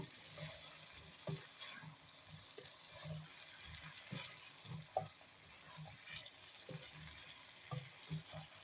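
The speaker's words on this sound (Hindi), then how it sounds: "ठीक तरह इसको हिलाएंगे कि सारा मसाला गोभी के अंदर जाए" Spiced aloo gobi of potato and cauliflower is stirred in a pan, making a quiet continuous sizzle and frying hiss with soft irregular scraping and clinks from the spoon, close by.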